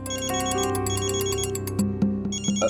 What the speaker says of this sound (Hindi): क्या बात है मिस्टर विवान, ऐसा कौन सा जरूरी फोन कॉल है जो आप थोड़ा रुक नहीं सकते?